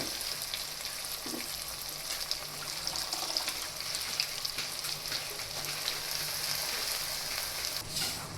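Fenugreek greens sizzling and frying steadily in hot oil in a pan, a continuous close crackle with fine bubbling throughout and no talk.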